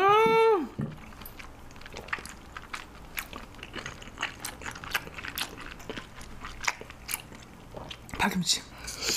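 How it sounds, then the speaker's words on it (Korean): Noodles topped with a fried egg being eaten up close, with wet slurping, soft chewing and crunchy bites repeating under a quiet background, after a brief voice at the start. "면을 덮어서 계란 후라이를 이렇게 얹어가지고"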